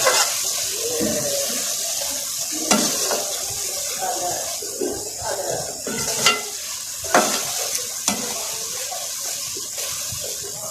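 Rice and water are stirred in a cooking pot, making a wet swishing and sloshing texture. Sharper clinks and scrapes of the utensil against the pot break through every few seconds, close to the microphone.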